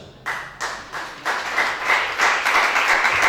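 A church congregation bursts into applause in rhythmic waves, clap surges building one after another and growing fuller and louder over a few seconds, with no talk over them.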